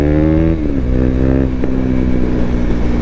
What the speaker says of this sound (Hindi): क्या बैकफायर दे रही है